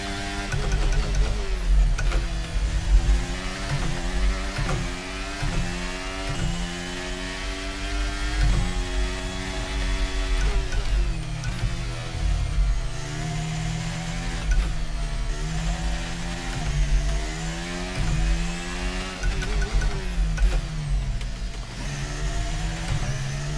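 An F1 car lapping Monaco in the F1 23 video game, its high engine note continuously rising and falling through rapid gear changes and revs, steady and loud throughout with no talking.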